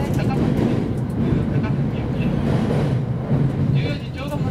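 JR Yokosuka Line train running between Kurihama and Tokyo, heard from inside the car as a steady loud rumble and rail clatter, with an onboard announcement voice talking over it.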